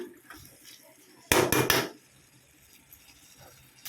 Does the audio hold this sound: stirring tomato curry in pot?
yes